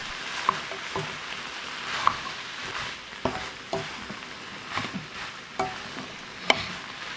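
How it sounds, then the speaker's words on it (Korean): Squid is stir-fried with cabbage and chili peppers, producing a soft frying hiss broken by occasional utensil clacks against the pan at irregular intervals, moderately quiet with no voices. "오징어가 두툼해지면서 말리기 시작하면 양배추와 고추를 넣어 볶아주세요."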